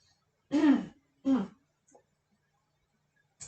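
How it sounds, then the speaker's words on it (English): Two short, gruff throat clears in quick succession, close and fairly loud, followed by a faint breath and quiet pauses. "Clearing your throat once or twice if you may feel the need to do so."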